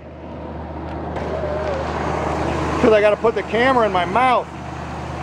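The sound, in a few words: 1962 Chevrolet Impala 327 engine running smoothly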